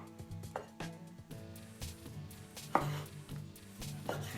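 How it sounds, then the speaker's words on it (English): A knife cuts up heirloom tomatoes on a board, giving a quick irregular series of close, soft chops and taps. "And again, we're just going to cut this up."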